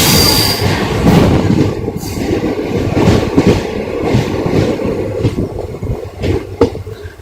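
The Karaikal–Bengaluru express passes Neyveli railway station. Its wheels rumble and clatter loudly and continuously, with sharp squeals and rattling carriages close by.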